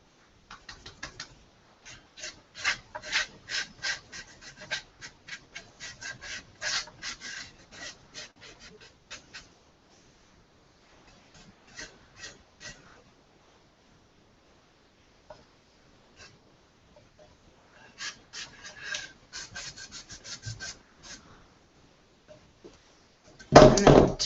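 A towel rubs wood sealer into a stained wood surface in faint, close, rhythmic wiping strokes that come in bursts with quiet gaps between them.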